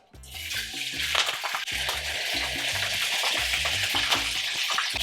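Bread sizzles steadily in a hot pan with garlic and extra virgin olive oil, a bright continuous crackle of frying oil, close and loud, with a low background hum beneath.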